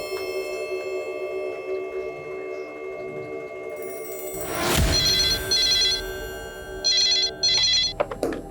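Telephone at a police station in a crime drama rings in two loud electronic bursts after a sharp clatter, heard over a steady background hum with no talk.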